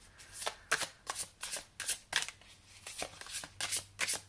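Tarot cards being shuffled by hand, a rapid series of crisp riffling bursts repeating in an irregular rhythm, close and clear with no talk.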